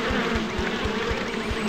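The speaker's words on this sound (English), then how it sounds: "My goodness, what a lot of buzzing bees." Bees in the video game Piglet's Big Game drone in a thick, continuous buzz, close and steady, with soft low thumps pulsing regularly underneath.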